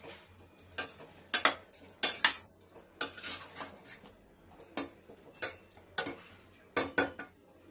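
Metal clatter of a cooking-pot lid being lifted and handled over simmering vegetables like ridge gourd and potato, a series of sharp clinks and scrapes in uneven bursts, close and clear.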